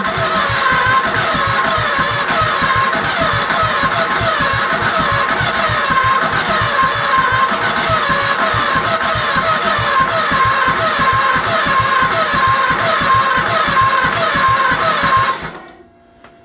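A Troy Bilt GTX 20 tiller engine runs roughly and loudly at close range for about fifteen seconds, with a dense, uneven chugging rhythm, then cuts off.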